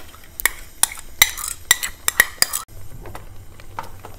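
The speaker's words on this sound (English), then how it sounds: "So I've put my yogurt in here, mixing that really well" A spoon scrapes and clinks against a pot as yogurt is stirred into a steak curry, with about eight sharp metallic taps in quick, uneven rhythm, then quieter scraping.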